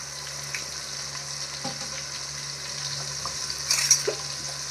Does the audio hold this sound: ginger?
yes